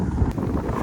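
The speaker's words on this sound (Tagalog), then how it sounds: "Kunti lang yung snow pero malakas yung hangin." Strong winter wind gusting through a snowstorm in Manitoba, a steady close roar buffeting the microphone with no one speaking.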